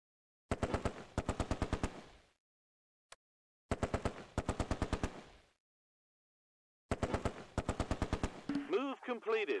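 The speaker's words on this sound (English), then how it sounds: "The Vickers lays down covering fire." Vickers machine gun firing in the World War II video game Close Combat, three long rapid bursts of evenly spaced shots separated by short pauses, with a brief warbling sound at the end.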